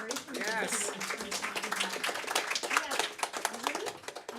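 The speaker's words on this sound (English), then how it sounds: "while we're applauding, we should applaud for our volunteers" Concert audience applauding at a Friday night show, a steady patter of clapping that runs beneath a person talking throughout.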